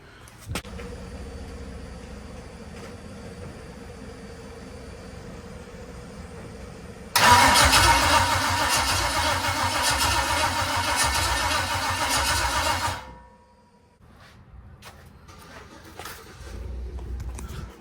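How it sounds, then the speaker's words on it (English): Truck engine on a new NBS single cab build cranks slowly during a test fire, a loud steady whirring crank for several seconds after quieter background, then cutting off abruptly, followed by a softer rumble. "it's only cranking like 100 RPM"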